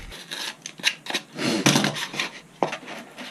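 A foam cone's inside edge is bevelled for a model triplane build: scattered scraping and rasping strokes, close and fairly quiet, in irregular bursts.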